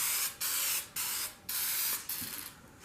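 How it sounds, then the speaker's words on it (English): Cleaner sprayed into an International Harvester Cub Cadet gas tank: four close, hissing aerosol bursts of about half a second each, separated by short pauses, with the last one weaker and sputtering. "So we're just going to go ahead and we're going to spray it."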